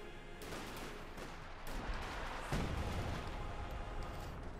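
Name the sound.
howitzer artillery fire in Company of Heroes 2 video game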